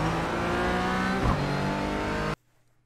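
A GT4 race car in iRacing at Barber Motorsports Park roars under hard acceleration out of a corner, its engine loud and close with a brief pitch dip midway, before cutting off abruptly into near silence.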